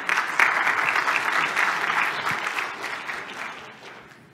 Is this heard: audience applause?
yes